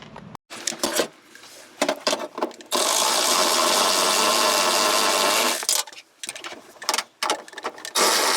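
Hand tools remove 10mm nuts while a Mazda Miata's interior is stripped for a race car build; a long whirring, ratcheting buzz of a power driver sits between scattered clicks, clanks and rustles at close range.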